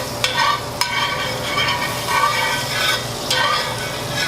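Butter melts and sizzles in a pan before scallops go in, a close, steady frying crackle with a few sharp clicks and spatula stirs breaking through.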